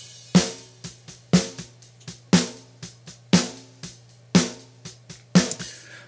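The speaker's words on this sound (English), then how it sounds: "The snare sounds like this without the EQ on." A dry, unprocessed snare drum with sharp loud hits about once a second and quieter ghost strokes between them, over a low steady hum.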